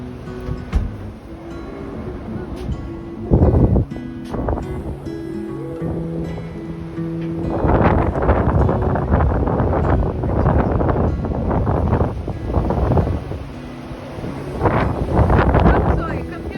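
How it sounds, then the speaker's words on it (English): Strong wind blows outdoors on a cold day, buffeting the microphone in loud gusts that swell and fade. A voice speaks briefly over the rushing air. "Can you hear the wind?"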